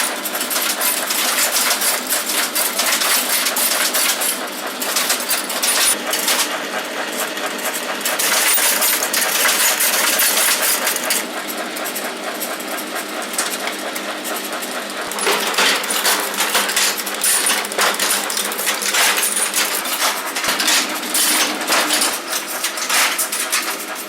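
A Linotype hot-metal typesetting machine casts a line of type, a loud, continuous mechanical clatter of rapid metallic clicks and rattles that runs without pause, surging at intervals.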